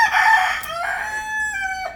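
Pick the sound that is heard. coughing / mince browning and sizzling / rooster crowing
rooster crowing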